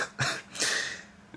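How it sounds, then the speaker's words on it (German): A person with a lingering cough during a casual football chat about the Euro 2016 France vs Romania match. Two short rough coughs sound close up, with no talking around them. "Ihr merkt eventuell, ich habe immer noch ein bisschen Husten."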